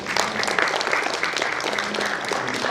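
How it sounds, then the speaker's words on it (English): An audience at a youth employment launch event in Kigali claps for youth leaders, a dense, even burst of applause from many hands, close and continuous throughout. "Give them a hand clap for the youth leaders"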